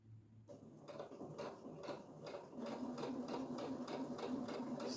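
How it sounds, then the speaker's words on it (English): A sewing machine stitches a notebook pencil pouch, its needle thumping in a quick, regular rhythm that speeds up partway through, close and moderately loud with no talking. "pivot, and continue sewing all the way around."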